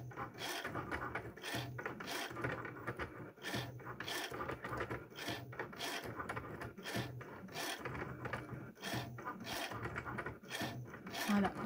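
A Cricut Maker cutting machine engraves a piece with a quiet, rhythmic mechanical scraping and ratcheting, repeating in regular pulses with no one talking.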